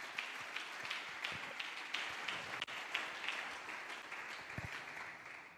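Church congregation clapping in praise: a soft, sustained round of many hands applauding, distant and fairly quiet, with a few sharper individual claps standing out and no talk over it.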